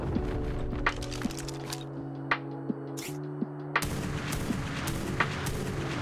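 Shotgun blasts in the game ARK, several sharp reports spaced apart over a steady droning game soundscape, moderately loud, with no voices.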